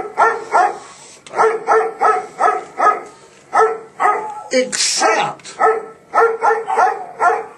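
A dog barks repeatedly nearby in quick, loud bursts during a podcast recording, with a brief voice cutting in partway through.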